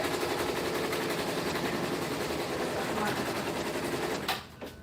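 An SWF 12-needle embroidery machine stitching, a fast continuous rattling hum at a steady pace with faint voices underneath, stopping near the end.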